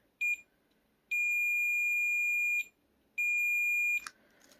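A continuity tester gives sharp, high beeps during repair of a water-damaged Nintendo DSi: one short chirp, then two longer sustained tones, in a quiet room with a faint click at the end.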